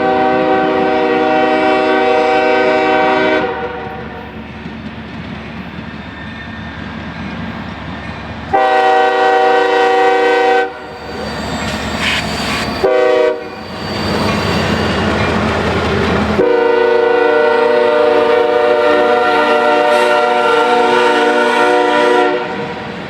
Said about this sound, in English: eastbound tonnage moves on the CSX